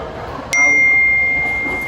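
A phone notification chime sounds in an Indonesian short film scene: one bright, bell-like ding that rings out and fades slowly over faint room tone.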